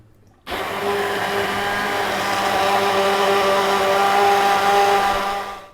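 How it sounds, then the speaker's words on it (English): A blender liquidizes lentil tomato soup, starting abruptly after a brief quiet moment, then running as a loud, steady whirring motor drone that rises slightly in strength toward the end before cutting off. "We're going to liquidize it."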